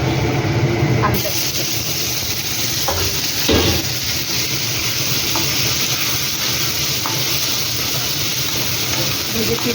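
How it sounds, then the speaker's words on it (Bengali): Potatoes frying in a pan of hot oil after onions, a strong steady sizzle with occasional utensil knocks and stirring scrapes, as a person talks over it. "ভেজে ফিরছি আলুটা।"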